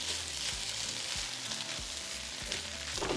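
Steak fried rice frying in a hot pan, with a steady loud sizzle and occasional scraping stir strokes, close up and with no talk.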